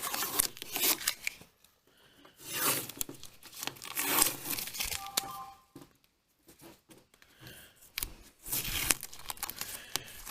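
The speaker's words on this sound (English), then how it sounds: "let's get this tape off of here" Protective tape is peeled off car body molding in close, uneven bursts of tearing and crinkling, with short pauses between pulls and no talking.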